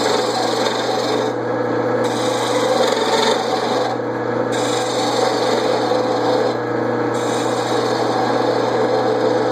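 A reclaimed black walnut pen blank spins on a lathe while a tool rasps and rubs against it, a steady, loud scraping over the motor hum with brief lighter pauses.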